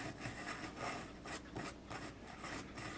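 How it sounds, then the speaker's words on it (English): A small brush scrubs CA glue on a wooden model ship, giving faint, close, rhythmic rubbing strokes in short repeated bursts with no talking. "possibly if I hold this down and sort of scrub it with my little brush here"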